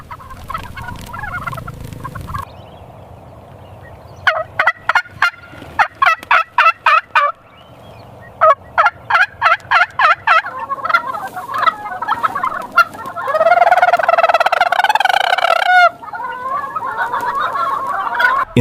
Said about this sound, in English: hundreds of turkeys will be herded into the barn to rest and avoid predators